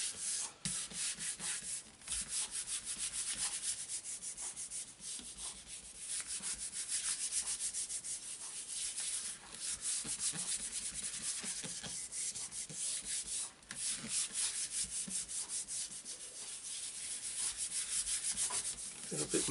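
Paper rubbed by hand over a Gelli gel printing plate during monoprinting, giving a steady, continuous soft scuffing and brushing sound with small rhythmic variations, close up and with no talking.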